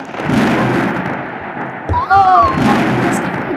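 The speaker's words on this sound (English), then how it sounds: "The thunderstorm is coming from top" Thunder from a thunderstorm in a Roblox natural-disaster game, a loud rolling rumble with a sharp lightning crack and a brief tonal zap midway, under continuous game sound and background chatter.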